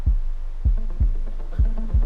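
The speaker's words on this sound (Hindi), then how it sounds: "कबीर के दिल की धड़कनें अब एक रेल के इंजन की तरह चल रही थी" A heartbeat sound effect of a racing heart plays as deep, close thumps in quick pairs, about five beats in two seconds over a low hum.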